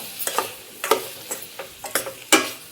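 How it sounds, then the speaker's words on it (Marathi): Soybean curry being sautéed in spicy masala, with a series of sharp, irregular scraping clicks from a spatula against the pan over a faint sizzle, about nine strokes in quick succession. "आपण 1-5 मिनिटं हे असंच आपल्याला हे परतून घ्यायचं आहे मसाल्यामध्ये"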